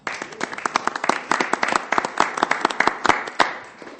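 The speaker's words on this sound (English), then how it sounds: "Council, let's give them a round of applause." A small group claps at a Sioux Falls city council meeting, with distinct individual hand claps in an uneven rhythm, close and sparse enough that single claps stand out, thinning near the end.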